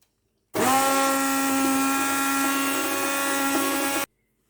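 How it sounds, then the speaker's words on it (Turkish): A hand blender purees turmeric lentil soup in a continuous high, buzzing whine of about three and a half seconds, switching on and off abruptly, close and loud with no talking. "Hemen blenderdan da geçirelim."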